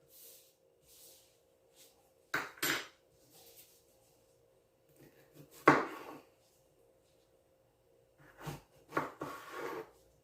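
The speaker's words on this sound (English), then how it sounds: "So I'm just going to put them in a bowl here and scoop these seeds over." Jalapeno seeds being scooped into a bowl: a few short, faint scraping clatters in small clusters, separated by near-silent pauses.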